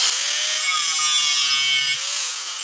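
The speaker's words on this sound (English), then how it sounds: "When you're using a cutoff wheel, you always want to score your metal before you just cut it." A cutoff wheel scores a metal piece for a shop vise stand, producing a continuous loud, bright grinding hiss that holds steady for about two seconds before easing off slightly.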